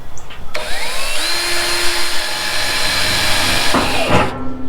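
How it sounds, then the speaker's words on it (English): Power drill driving wood screws into a wooden barrel-train kids' ride build: one close motor whine ramps up in pitch and holds steady for about three and a half seconds, then cuts off, with no talking. "So I'm just putting 2 screws in."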